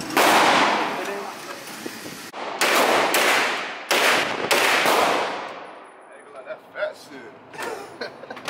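Guns fitted with 3D printed parts fire at a gun range: a burst of rapid, loud shots, then several sharp separate reports with ringing decay, followed by quieter clicks and handling noise.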